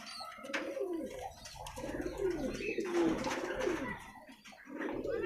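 Chinese owl fancy pigeons at a breeding farm in Uluberia, near Kolkata, coo in soft, repeated rolling calls close by, with faint background voices underneath.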